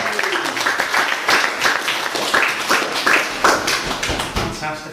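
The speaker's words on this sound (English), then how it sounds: "We need to give a round of applause for all the people that are in the kitchen back there" Café audience gives a loud, close round of applause for the kitchen staff, a dense rhythmic clapping with some individual sharp claps standing out, lasting throughout.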